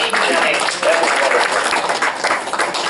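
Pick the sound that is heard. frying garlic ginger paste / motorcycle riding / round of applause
round of applause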